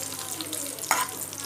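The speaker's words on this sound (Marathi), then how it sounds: "आपल्याला हे जे ड्रायफ्रूट्स आहे ते टाकायचे बारीक गॅसवरतीच, नाहीतर ते जळले जातील." Dry fruits fry in oil over a low flame for vermicelli kheer, with a soft continuous sizzle and a single brief scrape of stirring partway through.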